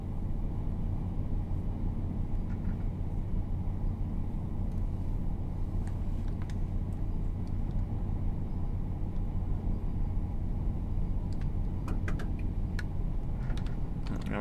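A train in Train Sim World 5, on the Cardiff City Network, runs at full power up a hill, giving a steady, loud low engine drone and rumble with faint clicks and ticks on top.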